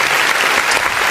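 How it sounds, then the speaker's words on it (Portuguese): Church congregation applauding during a worship service, a dense, steady wash of clapping from many hands filling the whole moment without a break. "aplauda o nome do Senhor Jesus"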